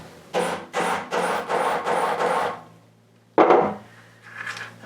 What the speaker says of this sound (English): we need the hammer, and we're going to hammer that in place